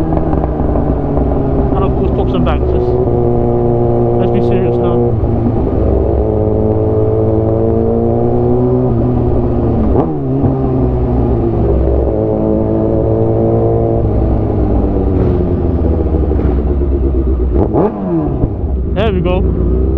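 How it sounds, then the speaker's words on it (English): A cruiser motorcycle with a modified exhaust revs repeatedly, its loud engine rising and falling in pitch, with crackling pops and bangs on the overrun and someone talking over it. "And of course, pops and bangs."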